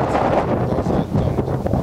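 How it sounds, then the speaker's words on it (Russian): Strong wind buffeting a camera microphone outdoors during a metal-detecting dig, loud gusty rumbling and roaring in uneven surges that fill the whole moment. "ветер сильный"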